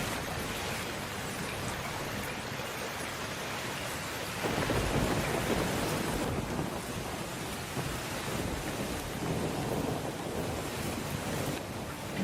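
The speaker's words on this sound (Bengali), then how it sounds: "তুই এই বৃষ্টিতে ভিজছিস কেন?" Heavy rain pours steadily with rolling thunder rumbling through, a dense, loud wash of sound that swells partway in and never lets up, with no voices heard.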